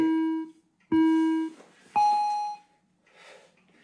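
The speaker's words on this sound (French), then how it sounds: "Vous avez 3 bips pour prévenir que ça va démarrer." Three electronic beeps count down to the start of a taiso exercise, each a loud half-second tone at a steady one-second pace, the last one higher in pitch, followed by faint noise.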